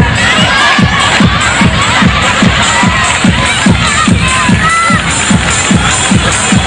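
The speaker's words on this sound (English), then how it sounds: "give them a big hand and cheer them loud and clear." Parents at a school fiesta cheer and shout as one loud, dense crowd roar, with a fast rhythmic pulse running underneath.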